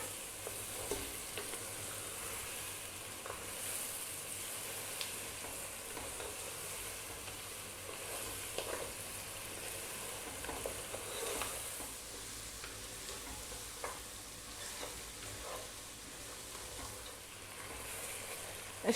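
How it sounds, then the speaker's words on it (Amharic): Kikel meat on the bone frying with garlic in a pan over medium heat, a steady soft sizzle with occasional light stirring scrapes, fairly quiet and continuous with no talking. "ይኸውላችሁ ቅቅላችን እየተጠበሰ ነው።"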